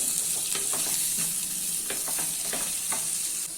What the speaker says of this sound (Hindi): अभी इसमें कटे हुए टमाटर ऐड कर लेते हैं और अच्छे से मिक्स कर लेते हैं।